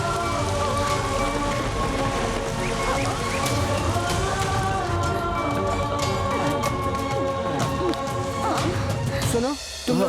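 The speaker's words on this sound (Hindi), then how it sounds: "ये बारिश कैसे हो रही?" Heavy rain pours down steadily throughout, a dense hiss of drops on surfaces, with voices and other sounds faintly underneath.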